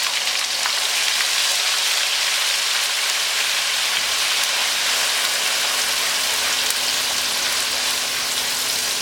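Two large ground onions drop into hot oil with dry spices for a masala fish curry, giving a steady, dense sizzle and crackle that runs unbroken and fairly loud with no talking.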